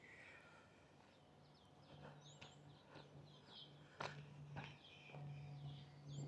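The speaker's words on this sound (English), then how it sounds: "And you can hear the birds" Scattered bird chirps and short calls ring out near a university campus among high-rise buildings in Singapore, faint against a low steady hum and a few soft knocks.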